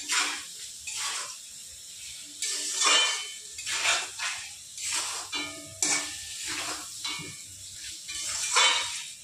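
Magur catfish pieces are stirred and fried in a pan with salt and turmeric, producing repeated close scraping strokes of a spatula over a soft sizzle, roughly one stroke every second.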